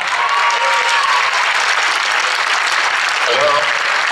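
Loud, sustained applause from a crowd at a sports awards evening as high school athletes are presented, a thick continuous roar of clapping with a few voices and a brief whistle-like tone.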